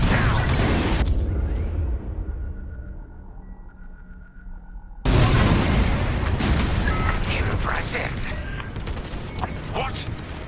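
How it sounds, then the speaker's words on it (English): Bombs are dropped onto a station in the Star Wars Squadrons space combat game, bringing a loud, heavy booming burst, then a muffled lull with a low hum, then a sudden roaring blast of explosions with crackling debris and rumble. "On my mark, it's bombs away."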